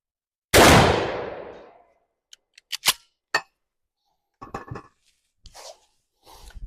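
A Taurus ST12 pump-action shotgun fires a copper buckshot cartridge with one loud, close blast that rings out and fades over about a second. A series of metallic clicks and clacks from the action follows.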